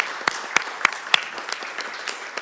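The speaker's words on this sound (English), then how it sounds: "So would you give her a round of applause?" A city council meeting audience in Hoover, Alabama applauds, with sharp individual claps standing out over a steady bed of room clapping at moderate volume.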